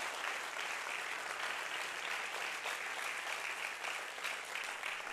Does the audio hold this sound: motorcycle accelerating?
no